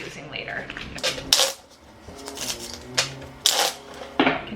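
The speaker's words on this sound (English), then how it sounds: "I'm going to shuffle my cards that we'll be using later." A deck of playing cards being shuffled over and over, with several sharp riffling bursts and card clatter rising between quieter stretches, close to the microphone.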